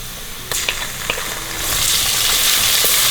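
Onions sizzle steadily in a hot pan, a loud close frying hiss that swells in the second half, punctuated by a few sharp clicks of stirring early on.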